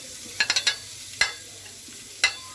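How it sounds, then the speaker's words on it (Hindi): Onions frying in oil in a cooking pot for chicken biryani, a faint steady sizzle with several sharp scraping clicks of a spoon stirring, clustered early and then two more spaced apart, no talking. "इसको हमने ब्राउन करना है प्याज को ना ऑयल में डाल के"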